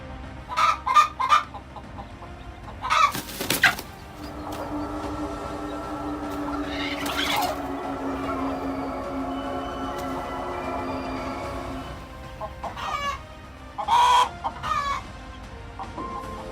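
A chicken guarding its eggs from a snake clucks and squawks in loud, close bursts, with longer drawn-out calls between them and no talk.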